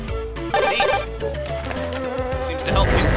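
Killer bees buzz in the video game Jazz Jackrabbit Doom, a droning insect whine layered with game music, weapon effects and other loud in-game sounds throughout.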